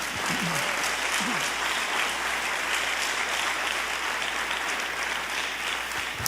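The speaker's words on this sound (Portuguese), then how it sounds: "Você pode aplaudir ao Senhor Jesus?" Church congregation applauding after a Portuguese-language sermon, dense continuous clapping that holds steady for the whole stretch.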